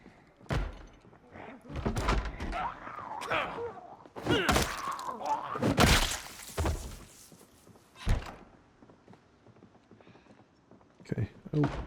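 A zombie thumps against a door in Project Zomboid, a series of irregular heavy thuds and bangs, some loud and close, with groans and a brief voice between them.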